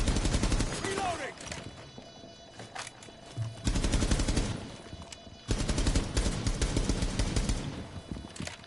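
Suppressive gunfire in the tactical shooter Rainbow Six Siege, loud bursts of rapid automatic fire with single shots between, breaking off and resuming in dense volleys, with some voice mixed in.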